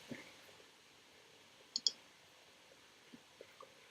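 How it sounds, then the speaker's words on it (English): Keyboard typing, heard as a few faint, sparse key clicks: a quick pair near the middle and three light taps toward the end, over quiet room tone. "Why am I typing?"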